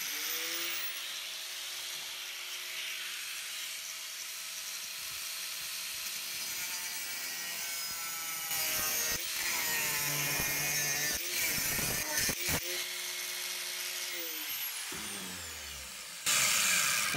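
A power tool grinds and whines while cutting through a steel propane cylinder being made into a knife-making forge, a sustained high-pitched cutting noise with sudden drops and bursts as the blade bites, fairly close, with no talk.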